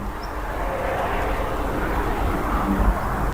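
A BMW M4 with its S55 engine corners on a race track, a steady loud engine drone holding constant throughout with no talk over it.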